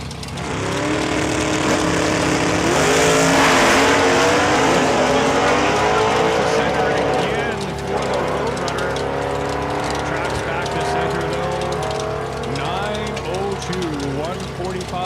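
Drag race cars, a Roadrunner and Kelly Morrison's El Camino, make a pass at Saskatchewan International Raceway, their loud engines droning and rising and falling in pitch as they rev and shift.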